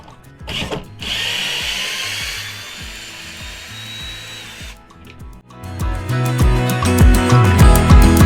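A power drill with drill sockets removes 10mm bolts from a washer-dryer, whirring in short bursts with ratcheting and metallic clatter, loud and close, with brief pauses between runs.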